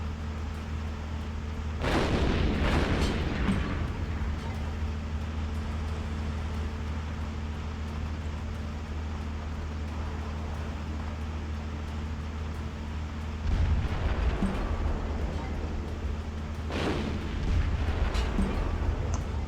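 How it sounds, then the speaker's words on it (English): Heavy 122mm A19 artillery fires in Steel Division 2, with deep booming blasts at about 2 seconds and again near 14 and 17 seconds over a steady low rumble of battlefield ambience. "I've also brought up some heavy artillery now, the 122mm"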